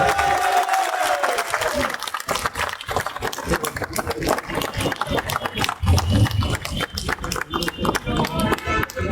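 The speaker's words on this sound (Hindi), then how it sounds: "हम जोरदार तालियों के साथ रोहित साहब का इस्तकबाल करेंगे" Applause from a crowd at a cine employees' federation event with PVR Cinemas, rapid, dense clapping that runs throughout, close and loud, with voices talking over it.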